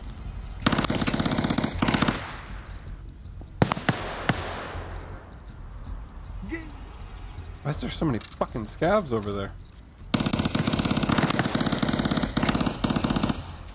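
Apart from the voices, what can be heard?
gunfire in the video game Escape from Tarkov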